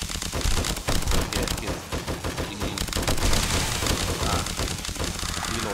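Dense, continuous gunfire from the video game 7 Days to Die, rapid overlapping shots forming a loud, sustained barrage with no break and no speech.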